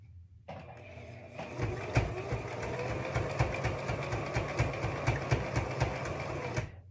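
A sewing machine stitches fabric for a child's hat, starting after a brief pause and then running in a fast, steady mechanical patter with regular knocking pulses, close and even.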